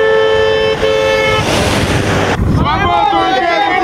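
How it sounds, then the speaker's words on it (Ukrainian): Passing motorists sound their car horns in solidarity with protesters at a roadside rally for political prisoners: sustained, overlapping horn tones up close, then a rush of traffic and heavy wind buffeting the microphone. "Автомобілісти, що їхали повз, на знак солідарності сигналили мітингувальникам."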